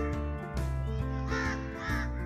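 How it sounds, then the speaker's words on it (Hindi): Crows caw repeatedly and loudly at close range over a foggy village, several harsh calls in quick succession. "ये कौवे भी जो है ना धुंध को एंजॉय कर रहे हैं।"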